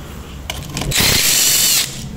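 A power tool loosens screws on a 50cc Valantino scooter engine, giving a few short ratcheting bursts and then a loud, sustained high whir of about a second, close up.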